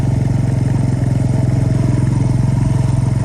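A motorcycle engine runs loud and close with a steady rapid pulsing throb, heard while riding through a ravine in the Poltava region of Ukraine.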